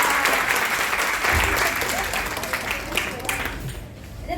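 An audience at a school farewell event breaks into loud, close applause, a dense burst of clapping that tapers off toward the end.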